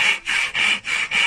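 A hand saw cuts through a chipboard plank in four loud, even back-and-forth strokes with brief pauses between them, close by and alone.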